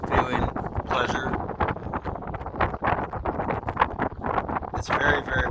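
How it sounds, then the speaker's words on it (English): Strong gusts of wind outdoors buffet the microphone in a steady, rough roar at a ranch where wild turkeys roam, with a person talking over it throughout. "It's very, very windy today."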